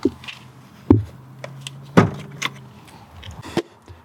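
Bonnet of a Mitsubishi Evo 9 with the 4G63 engine is opened: a few sharp, close clunks and latch clicks spaced about a second apart, with faint rattles between.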